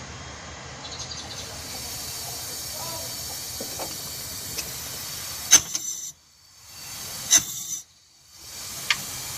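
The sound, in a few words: compressed air hissing into engine cylinder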